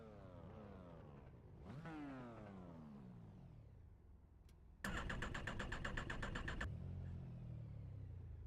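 An iRacing race car engine idles and blips on the grid before a standing start, its tone rising and falling in sweeping revs, then a loud, buzzy, steady high-rev drone holds for a couple of seconds before easing back.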